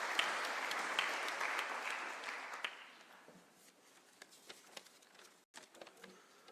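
An audience at an international heritage conference with President Ruto claps to welcome the Japanese ambassador, a dense round of applause that fades after about three seconds into a few scattered claps and faint room noise.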